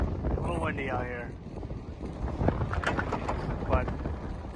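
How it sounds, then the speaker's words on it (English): Wind blows outdoors on a sunny spring day in Manchester, New Hampshire, buffeting the microphone in steady gusts as a person talks briefly at the start. "A little windy out here"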